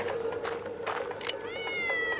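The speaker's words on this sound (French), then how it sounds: "Maintenant, on voit le chat sur lui. J'envoie le chat." A cat in a video game lets out a clear, drawn-out meow near the end, after a few softer mewing sounds over a steady background hum.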